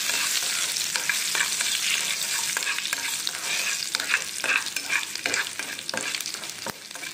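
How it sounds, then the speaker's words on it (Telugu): Dried red chillies and mustard seeds fry in hot oil in a pan, a steady bright sizzle broken by frequent crackling pops and scraping stirs, close and moderately loud with no voices. "ఇప్పుడు ఎండుమిర్చి ఆవాలు వేసుకోవాలి. వేసుకుని బాగా కలుపుతూ ఫ్రై చేసుకోవాలి."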